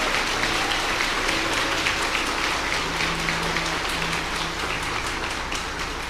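A church congregation applauds in praise during a service, dense sustained clapping from a large crowd filling the room throughout, without pause.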